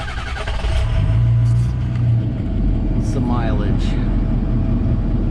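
A 2003 Ford F250 Lariat 4x4 diesel truck engine cranks and fires up, settling into a loud, steady rumbling idle close by, with a person talking over it.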